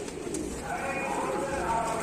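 Pigeons in a loft give soft, close cooing calls, a continuous low burbling with faint background noise.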